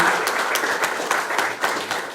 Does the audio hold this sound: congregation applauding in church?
yes